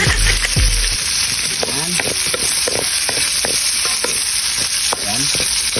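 Garlic and onion sautéing for Ilocos pakbet, a loud steady sizzle in hot oil with repeated stirring scrapes of a utensil in the pan; a voice speaks briefly.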